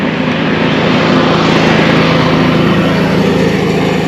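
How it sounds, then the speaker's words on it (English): A scooter passes on the road as an e-bike rider waits, its engine drone loud and steady, blended with strong wind rush against the rider. "Let that scooter go by."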